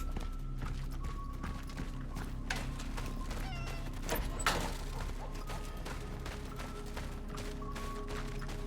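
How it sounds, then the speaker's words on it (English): A cat in Cronos: The New Dawn gives a few soft meows in a quiet game scene, set against a low ambient hum and faint scattered clicks and footsteps. "kitty, yay!"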